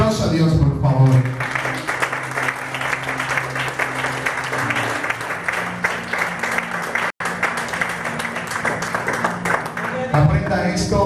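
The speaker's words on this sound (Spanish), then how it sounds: "Den un aplauso a Dios, por favor." Church congregation clapping in praise during a Spanish-language sermon, a steady dense wash of hands that keeps going for several seconds with voices mixed in, briefly cut off near the end before resuming.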